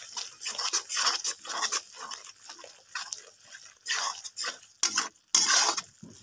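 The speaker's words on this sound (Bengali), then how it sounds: "এখানে মশলাটা আমার প্রায় কষানো শেষ হয়েছে" Spice masala being stir-fried in a pan for Bengali-style potato curry, with bursts of scraping and stirring against the pan that come and go in uneven strokes, close and fairly loud, with brief pauses and no talking.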